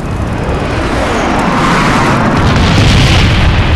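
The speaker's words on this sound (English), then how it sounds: "Napalm strike coming in." A napalm strike in the Call of Duty Black Ops video game detonates as a loud, sustained boom with a roaring, crackling fiery rush that builds and spreads, filling the whole moment.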